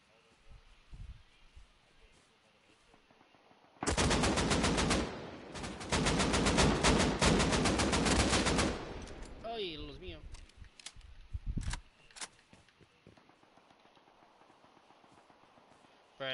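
Sustained automatic AK rifle spray fire in a video game, several long bursts loud and close for about five seconds, followed by scattered single shots and quieter game noise.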